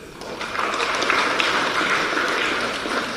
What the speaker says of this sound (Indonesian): Tepuk tangan buat Pak Pandu